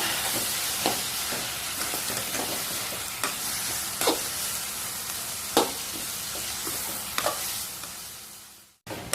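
Onion and finely chopped tomatoes sizzle steadily in a pan for a drumstick curry, with a handful of sharp spoon scrapes and clicks as the mixture is stirred; no one speaks, and the frying cuts off abruptly near the end.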